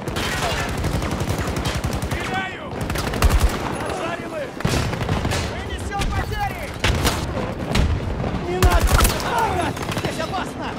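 Rapid gunfire fills a Battlefield 2042 match, with repeated sharp blasts from a shotgun among bursts of automatic fire and explosions, loud and close, while players talk over the shooting.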